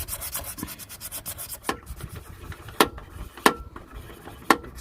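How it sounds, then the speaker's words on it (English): An emery board rubbed over part of a van door, heard as close, soft rasping strokes in a quick rhythm that slows into a few sharper, separate scrapes. "Let's try the emery board on the top just to soften it off a bit."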